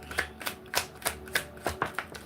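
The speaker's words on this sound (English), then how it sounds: "let me get 3 cards" Tarot cards drawn one after another from a deck during a love reading, giving about eight crisp, evenly spaced card snaps and shuffles, close and fairly quiet with no voices.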